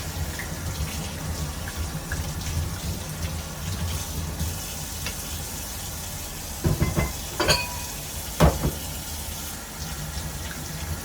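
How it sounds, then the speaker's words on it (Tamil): Onions being washed in water at a kitchen sink while preparing Sri Lankan seeni sambal, a steady running-water wash with a few sharper splashes and clatters toward the end. "நாங்க வெங்காயத்தையும் கழுவி எடுப்போம்."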